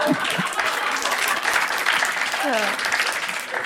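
A studio audience breaks into dense applause that stays steady throughout, with voices and some laughter mixed in.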